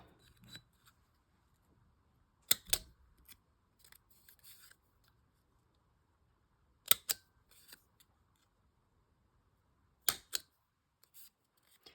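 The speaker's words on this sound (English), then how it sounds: "you can use that to punch out the corners of the tickets" Three sharp mechanical clicks of a hole punch cutting the corners of paper tickets, each followed by a faint rustle, spaced several seconds apart in quiet.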